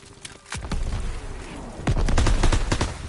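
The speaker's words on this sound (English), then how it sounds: "SMGs are still sweeping the beach!" Submachine gun fire sweeps a beach in Call of Duty WWII, with dense, rapid bursts of close, loud shots that build into heavier overlapping volleys, continuous and without speech.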